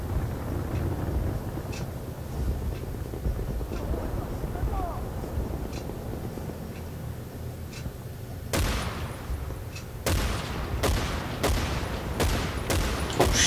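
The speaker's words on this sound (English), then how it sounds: "I got killed by a machine gun." Machine gun fire in the video game Battlefield 1943 on Wake Island, a low rumbling battle bed giving way to sharp, loud bursts of rapid shots near the end.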